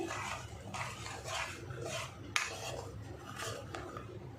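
Mango pulp for aamras being stirred in a kadai over a low gas flame, with soft repeated scraping and clinking of a spoon against the metal pan in a steady rhythm, close and fairly quiet.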